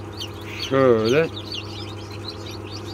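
A newly hatched chick peeps faintly and repeatedly in high, thin chirps, while a person briefly speaks over it.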